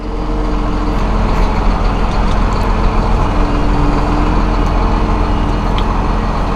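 A Massey Ferguson 7715S row crop tractor with a Dyna4 transmission runs steadily and loud as it shifts down to a lower gear, its diesel drone holding even throughout with no talking.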